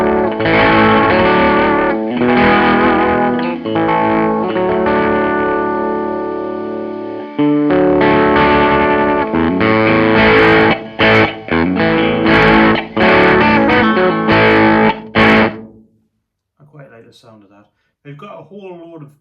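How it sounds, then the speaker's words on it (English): Distorted electric guitar played through a phone amp-modelling app with reverb, loud sustained chords and riffs for about fifteen seconds, then choppy bursts before a short quieter tail of picked notes ringing out. "That's quite a good, decent reverb, but I don't want it that damp."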